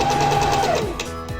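A sewing machine runs steadily, close and fairly loud, as it stitches a dart on blouse fabric in one short continuous burst of rapid whirring.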